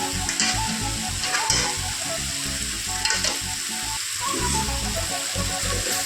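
Duck meat fried in masala with ginger and garlic for a village-style duck gravy, sizzling loud and close throughout while a spoon stirs and scrapes the pan.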